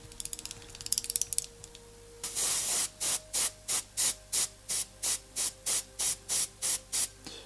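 An airbrush spraying paint on a miniature gives short hissing bursts in a steady rhythm, about a dozen quick evenly spaced puffs up close, after a few light clicks and scrapes.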